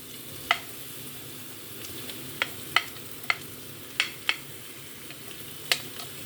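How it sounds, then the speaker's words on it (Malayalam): Chopped onions frying in hot oil in a pan for chicken curry, with a steady close sizzle broken by several sharp clicks of a spoon stirring against the pan. "എണ്ണ ചൂടായി അതിനുശേഷം ഞാൻ ഈ അരിഞ്ഞു വെച്ച ഉള്ളി നന്നായി ബ്രൗൺ കളർ ആകുന്നവരെ നമ്മൾ വഴറ്റിയെടുക്കണം."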